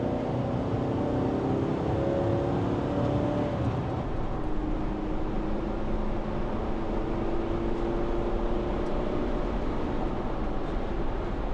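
Steady engine roar of a VW Transporter T6.1 van pulling hard in third gear on an open road after an ECU remap, a continuous loud in-cabin drone with broad road noise and no talking.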